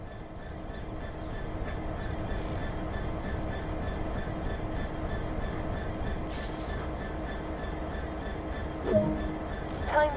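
A train in Train Sim World on PS4 Pro sets off after its brakes are fully released, giving a steady, continuous rail rumble with faint clicks and a light metallic squeal near the end.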